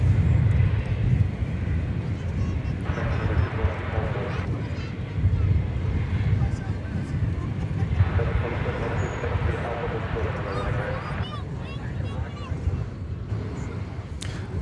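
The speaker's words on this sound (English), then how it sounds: "This is American Flight 2168 arriving from Monterrey, Mexico, an Airbus A319." An American Airlines Airbus A319 arriving at Dallas/Fort Worth airport, a steady jet roar rumbling at moderate distance with wind noise, while people talk over it throughout.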